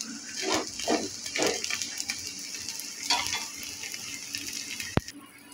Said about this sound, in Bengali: দেখুন, এদিকেও খুব সুন্দরভাবে ভাজা হয়েছে।